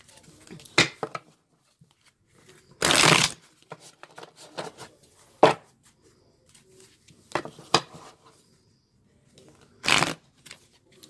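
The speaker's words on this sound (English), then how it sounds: "So now we're going to shuffle a little bit here." A deck of tarot cards is shuffled in several quick riffling bursts separated by pauses, with soft handling and tapping sounds in between, close up.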